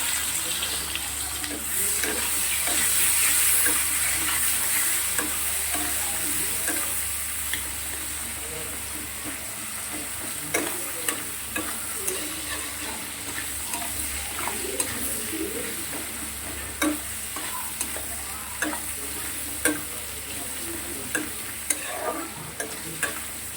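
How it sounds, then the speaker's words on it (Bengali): Nigella seeds, chopped onion and tomato fry in a pan with a soft, continuous sizzle, punctuated by occasional clinks of a spoon stirring against the metal, with faint birdsong in the background. "কালো জিরে ফোড়নে দিলাম, পেঁয়াজ কুচি দিয়ে দিলাম, একটা টমেটো কুচি"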